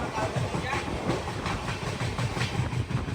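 Another train rushes past while aboard a moving express, a fast clattering rumble of wheels and wagons close by with rhythmic clicks, loud and continuous.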